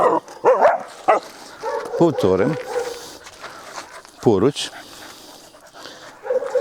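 A German shepherd in early obedience training gives short yips and whimpers and pants between them, close by, as a handler gives spoken commands over and around the dog's sounds.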